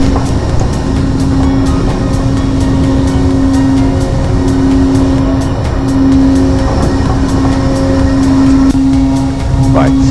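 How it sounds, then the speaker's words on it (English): A ship's mooring winch heaves up mooring lines onto a tension drum, giving a loud, continuous mechanical drone with a steady hum and rattling, grinding texture throughout, up close on deck. "we're now heaving up the our mooring lines here, so you can feel the sound on the tension drum on that"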